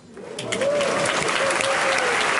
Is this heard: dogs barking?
no